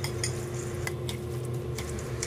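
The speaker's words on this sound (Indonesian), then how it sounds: "Diaduk-aduk hingga semua sausnya tercampur dengan rata." Spoon clinking and scraping in a bowl as fish ball mixture is stirred with oyster sauce, chicken powder, sugar and cornstarch for steamed Hong Kong-style fish balls; steady close utensil taps over a low hum, no talk.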